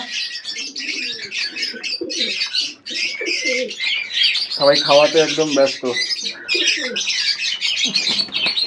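A loose flock of domestic pigeons of several fancy breeds, including black and chocolate varieties, coos and chirps nonstop at morning feeding, close and busy, while a person talks over them.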